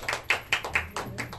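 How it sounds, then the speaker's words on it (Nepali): A small group claps in a brief, uneven burst of about six sharp claps at a women's skill-training gathering of Nepali workers in Hong Kong, close and moderately loud with no talk. "यो चाहिँ सबले ताली बजाइदिनु होला दिदीलाई धन्यवाद"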